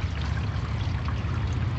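Water drains from soaked mushrooms into a bucket in a soft, steady trickle and pour, close by and fairly quiet, with no voices over it.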